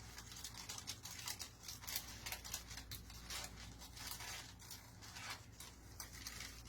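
Material for a DIY jewelry box is cut straight down the middle, a quiet run of closely spaced snipping and crisp rustling strokes, close by, with no talk.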